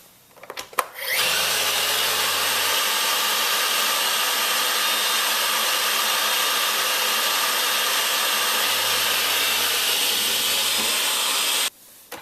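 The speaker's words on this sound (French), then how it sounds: "pour tester la vitesse d'aspiration, j'ai décidé de saupoudrer de la farine tout autour de l'aspirateur" A Dyson 360 Eye robot vacuum cleaner starts with a click and runs with a loud, steady whirring hiss for about ten seconds before switching off abruptly.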